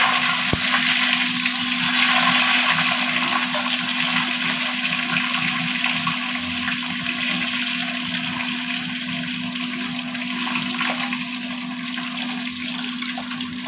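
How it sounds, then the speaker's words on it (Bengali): Eggs fry in hot oil in a wok, giving a loud, steady sizzling hiss that holds unbroken for the whole stretch with a faint low hum underneath. "তেল গরম হয়ে গেছে, এবার আমি ডিমগুলো দিয়ে দেবো।"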